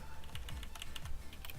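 Rapid, repeated key presses on a computer keyboard, steady typing clicks close up with a low background hum and no talking.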